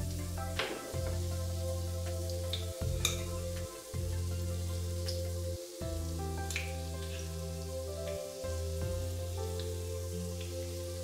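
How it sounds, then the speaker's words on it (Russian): Buttermilk pancakes fry in oil over moderate heat, giving a steady close sizzle with scattered crackles and pops throughout and no voices. "оладьи обжаривать рекомендую на умеренной температуре"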